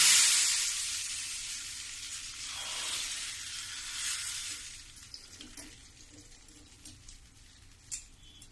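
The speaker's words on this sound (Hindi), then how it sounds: "देखो ये तड़का जो है ये दाल में मैं डाल देती हूँ।" A loud burst of hissing sizzle as hot oil tempering is poured into spinach and toor dal, fading over several seconds into quieter crackles and a few small clinks.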